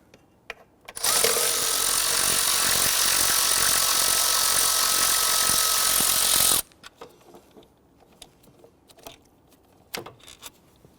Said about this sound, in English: I am removing these in a crisscross pattern